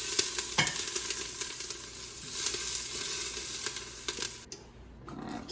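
Summer squash charring in a hot pan, a dense close sizzle with intermittent stirring scrapes, cutting off briefly near the end before resuming.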